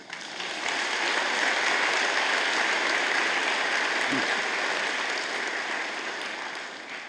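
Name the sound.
graduates giving themselves a round of applause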